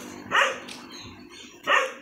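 A dog named Brian barks twice, loud and close, with a short pause between the sharp barks and no talking.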